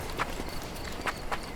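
Horse hooves clip-clop in the Sherlock Holmes Chapter One video game, a few soft, spaced hoof strikes over a steady low background ambience.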